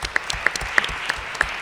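Audience applause at a plenary session of a conference on reconciliation and barriers to an inclusive society, a steady wash of many hands with a few louder individual claps standing out, with no talking.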